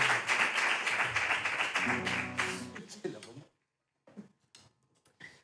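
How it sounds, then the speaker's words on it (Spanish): An audience at an intimate library concert applauds a violinist after a piece, a dense burst of clapping with a voice over it that fades after about three seconds into a few scattered claps and taps. "Un fuerte aplauso para Marina Sierra al violín."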